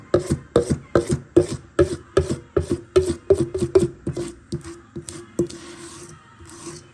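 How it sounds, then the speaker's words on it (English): Muffin batter scraped into a muffin tin, a quick run of close, rhythmic scraping strokes that slow and thin out toward the end. "That one's a little sparse, so we're going to scrape it nice."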